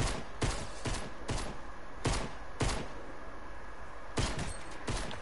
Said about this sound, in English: Watch these pistol tags